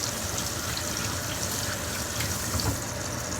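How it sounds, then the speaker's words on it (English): Tap water runs steadily over food being rinsed in a catering kitchen, a continuous broadband splashing hiss that holds at an even level throughout, with no talk. "Little rinse."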